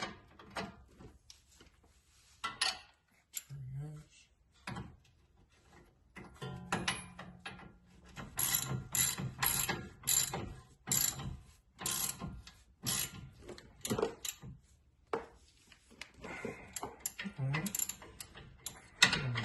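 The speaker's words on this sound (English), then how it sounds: "And on the other side, you're going to be torquing it down" A ratchet clicks in quick bursts while bolts on a Honda Pilot front axle and caliper assembly are tightened, with pauses between runs, close and moderately loud, plus occasional tool clatter.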